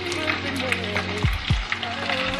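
Battered chicken pieces sizzle and crackle in hot frying oil in a home kitchen, a steady close-up frying hiss throughout with a couple of low thumps partway through.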